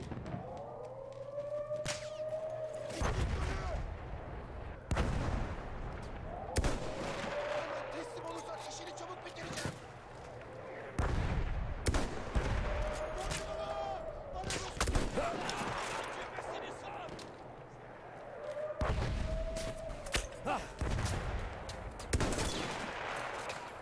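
Battlefield 1 World War I combat: repeated bursts of gunfire and sharp loud shots crack over a wailing siren-like drone, with voices speaking at intervals throughout.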